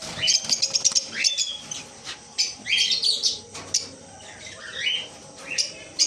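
Many birds at a breeding farm chirp and squawk in overlapping bursts of high calls, loud and close, with no talking.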